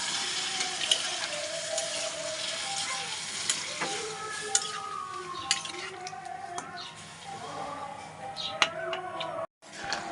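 Chicken curry simmers and sizzles in a pot just after gravy is poured over the browned meat, a continuous frying hiss mixed with stirring scrapes and light utensil clinks, cut off briefly near the end.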